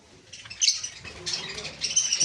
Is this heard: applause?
no